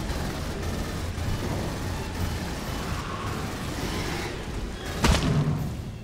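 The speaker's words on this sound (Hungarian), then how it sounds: "És elért a robbanás," A video-game explosion in Aliens: Colonial Marines hits as a sudden loud boom near the end, rising out of a steady dense rumble of game noise.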